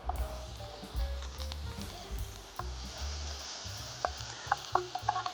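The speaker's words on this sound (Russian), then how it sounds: "Лук, сельдерей слегка обжарились." Chopped onion and celery gently frying in a pan of olive oil, giving a steady soft sizzle with occasional light clicks and stirring sounds near the end.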